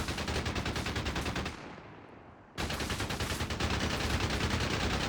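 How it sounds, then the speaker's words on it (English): Quad machine gun firing in Company of Heroes 3, a loud, rapid, continuous burst that pauses for about a second and then resumes at the same relentless rate, with no voices. "At the moment, the quad sounds exactly the same as a single vehicle mounted machine gun"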